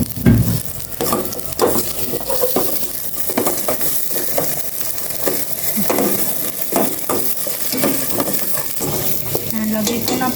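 Chicken sizzles in a pan with onion and ginger while being stirred. A loud, steady frying hiss is broken by frequent scraping and clinking from the utensil against the pan.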